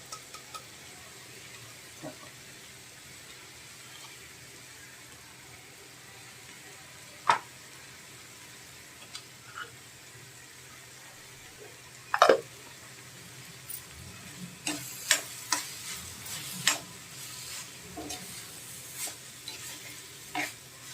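Grated coconut frying with softened onion in a pan for a prawn dish, a faint steady sizzle broken by occasional sharp scrapes and clinks of stirring.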